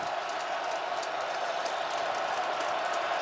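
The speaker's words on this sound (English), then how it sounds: "This crowd starting to really jump around." Stadium crowd noise from a Michigan at Wisconsin college football game, a steady broad roar of cheering and applause filling the whole stretch without letting up, with no clear single voices standing out.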